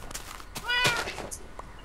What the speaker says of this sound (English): Hey, look, there's a cat, Armand.